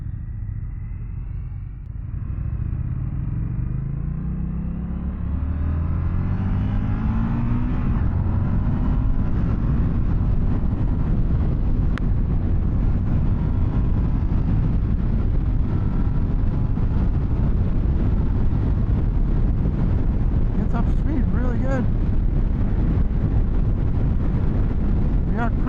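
An Indian FTR R Carbon motorcycle picks up speed with a rising engine note, then settles into a loud, continuous rumble buffeted by heavy wind noise while cruising on the road.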